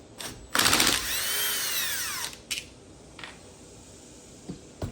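Power tool whirring on a Onefinity CNC router mount, a loud burst about a second and a half long with a rising then falling whine, followed by a few short clicks and taps.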